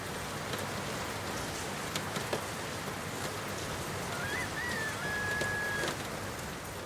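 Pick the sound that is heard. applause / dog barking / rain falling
rain falling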